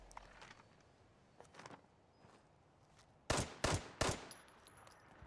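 Gunshots in the video game Fallout 76. A few soft, scattered sounds come first, then three sharp, loud shots ring out in quick succession near the end. No talking is heard.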